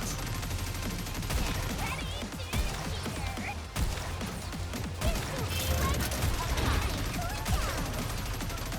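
Sustained heavy weapons fire in a video game battle, dense overlapping bursts and crashes running continuously and loud, with game voices talking over the barrage.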